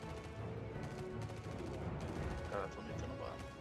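Rapid gunfire in the space shooter Star Citizen, bursts of shots crackling over a dense game mix, with players talking throughout.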